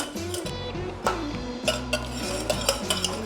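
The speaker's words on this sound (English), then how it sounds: "And you just keep whisking the butter around." A whisk works cold butter into a reduction in a pot for a beurre blanc sauce, giving a close, steady stir. Light metallic clinks against the pot come through at an irregular rhythm.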